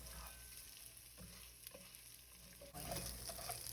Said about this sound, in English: Stir the dried rice around for a couple of minutes until it becomes translucent